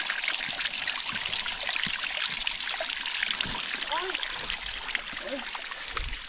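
A waterfall on the Horsnell Gully trail in South Australia flows loudly and steadily, with close trickling and splashing and a few faint chirps and voices at low level beneath the water.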